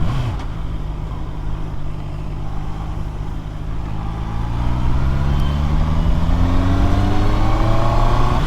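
A 2021 Honda CBR650R motorcycle engine climbs steadily in revs during a test ride, its rising whine growing louder and continuous, heard close with no speech.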